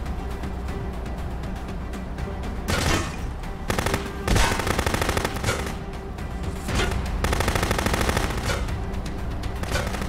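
Gunfire in the video game Contraband Police: loud automatic bursts and sharp single shots over a constant roaring background, with several heavy rapid volleys spread across the clip.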